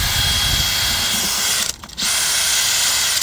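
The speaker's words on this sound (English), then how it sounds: "So, with a wire brush and the drill" Electric drill spinning a wire brush to clean a truck rear wheel hub where it meets the brake disc, a steady loud grinding buzz with a brief dip in the middle.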